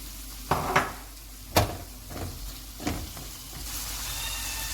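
Onions hit hot oil in a pan with a steady sizzle. Several distinct clatters and scrapes of a utensil against the pan sound close by, with no talking.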